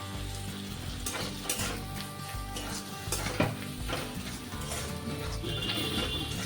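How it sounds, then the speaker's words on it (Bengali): Chopped tomatoes hit frying masala in hot oil for a chicken curry, giving a loud, continuous sizzle with scraping and clinking from stirring in the pan. "মশলাটা থেকে তেল ছাড়তে লেগেছে, এবার আমি টমেটো কুচি দিয়ে দিচ্ছি।"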